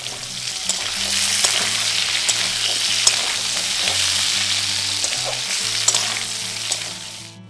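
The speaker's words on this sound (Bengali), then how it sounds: "এইভাবে ঢেকে ঢেকে আলুটাকে একটু ব্রাউন কালার আসা পর্যন্ত ভেজে নিতে হবে।" Potato pieces frying in oil in a covered wok while browning, a steady loud sizzle with crackling pops and occasional stirring scrapes, no voices.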